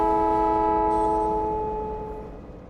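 A train in Factorio sounds a steady, harmonic horn tone for about two seconds that slowly fades out over a low rumble.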